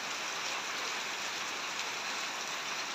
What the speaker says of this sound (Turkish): Ama bayağı şiddetli yağıyor yağmur.